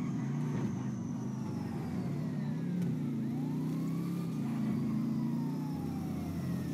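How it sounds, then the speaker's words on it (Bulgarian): An ambulance siren in the GTA V video game wails in rising and falling sweeps over a steady, loud car engine drone as the player drives past it. "Тук му минах линейката."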